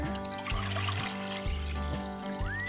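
Water poured into a cooking pot in a steady close stream, with regular glugging pulses about every half second.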